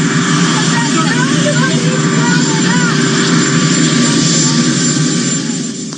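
A helicopter's engine and rotor roar loud and close, a steady broadband drone with a strong low hum and a faint high whine, easing slightly at the end.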